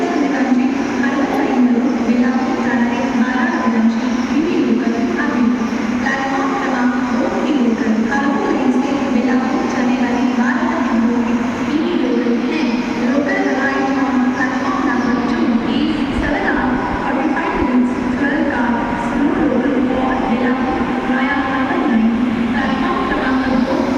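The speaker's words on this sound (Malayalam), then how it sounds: "ഇതാണ് നമ്മുടെ സ്റ്റേഷൻ, ഖാർഗോപർ റെയിൽവേ സ്റ്റേഷൻ" Trains run at Ghatkopar railway station, heard as a loud, continuous rail rumble and hum on the platform, with a voice speaking over it.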